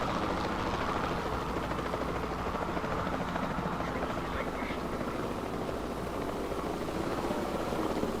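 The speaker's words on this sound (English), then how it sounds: "Did I just send the helicopter away?" Helicopter rotor and engine drone in a PC video game, a steady continuous whir filling the whole stretch at moderate level with faint game sounds behind it.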